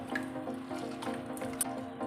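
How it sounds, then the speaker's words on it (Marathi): Chopped wild greens (fodshi) being rinsed by hand in a vessel of water, with soft steady sloshing, squishing and dripping, close up and continuous with no talk. "आता आपण ही पाण्यात अशी स्वच्छ धुवून घेणार आहोत एक दोन तीन वेळा चांगली ही पाण्यातनं काढायची"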